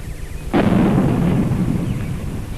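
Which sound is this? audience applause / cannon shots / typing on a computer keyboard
cannon shots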